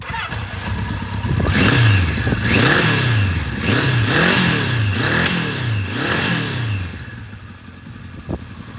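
A restored 1976 Kawasaki KZ900 motorcycle starts and revs, its engine rising and falling in about six sharp, evenly spaced throttle blips before settling back to a steady idle; loud and close, with no talk.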